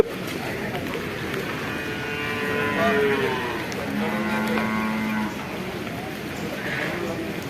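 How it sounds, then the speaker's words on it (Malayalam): Water buffaloes low in long, deep calls, one after another, over a busy background of crowd chatter and voices at a cattle market in Kollannur. "ഇതാ നല്ല പോത്തുകളുണ്ട് കേട്ടോ പോത്തുകൾ"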